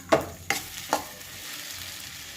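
Sago upma is stirred in a pan: three distinct scraping clinks of a spoon against the pan in quick succession over a faint, low frying hiss that then continues quietly on its own.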